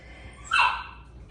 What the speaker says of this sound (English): Dog's still complaining.